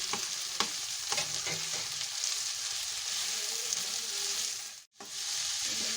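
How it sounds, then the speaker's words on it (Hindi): Minced meat (keema) frying with softened onions in a pan, giving a steady, dense sizzle throughout with a few stirring scrapes, close and continuous. "अब मैं कीमा डाल दूंगी।"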